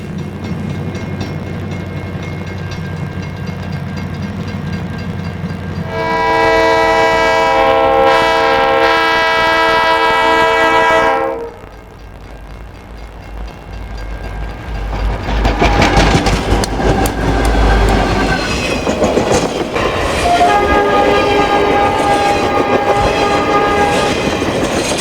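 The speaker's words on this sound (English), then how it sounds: "northbound road railer train RR 281, Rutherford, Pennsylvania to Willow Run, Michigan, rolls past the old depot" A Conrail RoadRailer freight train runs northbound past an old depot in a blizzard, sounding a long, loud horn blast, then rolling by with rumble and clickety-clack, followed by a second, higher horn tone.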